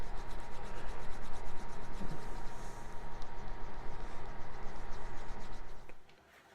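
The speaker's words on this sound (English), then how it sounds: "take the handle on a edge tool here and start the burnishing process. Just rub back and forth on the edges until they're smooth" A leather dog collar's edges are rubbed back and forth with the handle of an edge tool to burnish them, giving a continuous close, dry rhythmic rubbing that fades out at the end; no talking.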